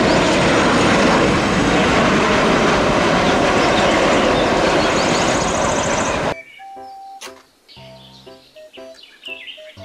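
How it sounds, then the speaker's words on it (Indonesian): A loud, steady toy airplane engine roar dominates for about six seconds, then cuts off abruptly to quieter, scattered tones. "Pesawat terbang."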